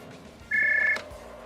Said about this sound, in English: Excuse me, please, my phone is ringing.